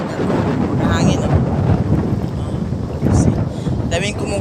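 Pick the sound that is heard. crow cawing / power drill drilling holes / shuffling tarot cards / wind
wind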